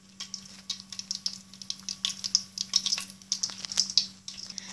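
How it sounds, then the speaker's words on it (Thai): French fries dropped into hot, boiling frying oil crackle and spit in quick irregular pops over a steady background hum, close and fairly loud, with no voices. "ให้เอาเจ้าเฟรนฟรายหยอดลงไปเลย ถ้ามันดังแป๊ะๆอย่างเงี้ยแสดงว่าเดือด"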